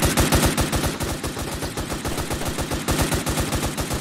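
Rapid automatic gunfire from a Roblox Fortnite-style shooter game, dense repeated bursts of shots crackling continuously and loudly with no speech over them.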